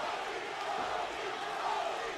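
Boxing arena crowd chanting "Rocky" for Puerto Rican fighter Roman "Rocky" Martinez during the second round against Orlando Salido, a steady dense roar of many voices with no gaps.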